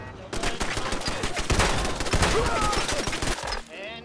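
Turret in Fallout 4 shooting in rapid, sustained bursts of gunfire, with dense overlapping reports close and loud before easing off near the end.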